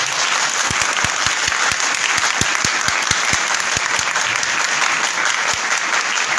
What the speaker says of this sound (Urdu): جب ہم زوردار تالی بجاتے ہیں